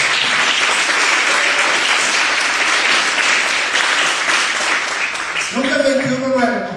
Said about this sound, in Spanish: Dale palmas a Dios por todo eso.